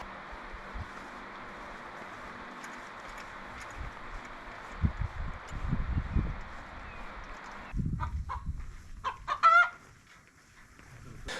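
Chickens cluck and a rooster calls from inside a portable coop, a steady outdoor hum underneath, with louder close clucking bursts toward the end.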